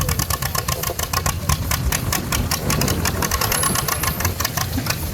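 A classic tractor engine runs steadily at a threshermen's show tug of war between tractor and humans, giving a close, loud, rapid knocking chug with no talk over it.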